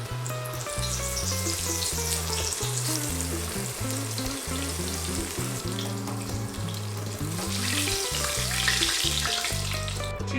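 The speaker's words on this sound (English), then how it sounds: "All right, oil's hot. Time to fry the cheese. Just drop them in there." Halloumi cheese pieces frying in hot oil, giving a steady, continuous sizzle under louder background music with a strong bass line.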